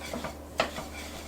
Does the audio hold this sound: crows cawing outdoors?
no